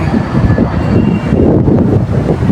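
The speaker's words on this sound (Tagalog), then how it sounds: "may aeroplano dumadaan" A steady, broad engine roar from a plane passing overhead during strong wind near a fire in Parañaque, holding loud throughout with a low rumbling drone and gusty noise.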